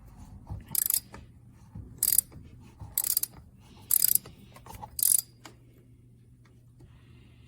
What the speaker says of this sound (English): get our 3/8 ratchet up in there and get it loose